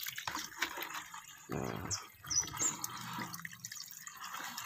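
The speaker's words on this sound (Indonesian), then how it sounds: "kita tambahkan dulu airnya ya" Water is poured into a softshell turtle tank, giving a close, splashing, bubbling pour with drips and gurgles, briefly under a single spoken word.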